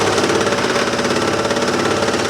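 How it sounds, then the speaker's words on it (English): Janome 454D serger overlocker running at full speed on rubber feet atop a tabletop, a steady dense mechanical whir and rapid stitching rattle, loud and close, continuous throughout with no talking. "I'm sewing full speed, and the machine's not hopping around anywhere on the top of my surface here"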